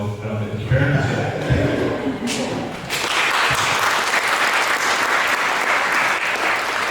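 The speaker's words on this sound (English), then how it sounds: "Round of applause again." An audience at a talk on doing a first deal bursts into loud, sustained clapping that begins partway through, following a stretch of people speaking, and carries on steadily to the end.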